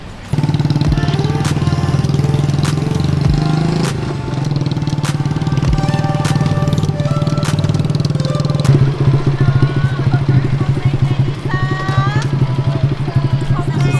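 A motorbike ridden around Angkor Wat in Cambodia gives a loud, steady engine drone close by, with a few shifts in pitch and some rattling near the end.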